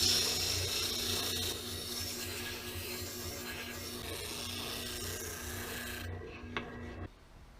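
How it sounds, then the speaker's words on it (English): Oscillating spindle sander smoothing saw marks from the edge of a cut wooden sneeze guard piece: a steady, close rasping rub with a low motor hum underneath that stops abruptly near the end. "it's over to my oscillating spindle sander"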